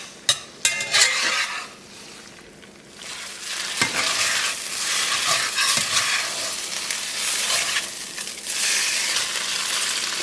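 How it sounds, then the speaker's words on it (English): Spaghetti all'assassina frying and charring over high heat in a pan, a steady loud sizzle with scraping and stirring clatter near the start and periodic bursts of hissing as the sauce-coated pasta is turned. "we're actually going to kind of burn the sauce a little bit on purpose"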